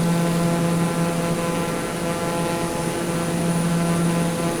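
A propeller airplane cruises on the Kathmandu to Lukla flight, its engine drone a loud, constant hum with steady tonal whine heard from inside the cabin, with no talking.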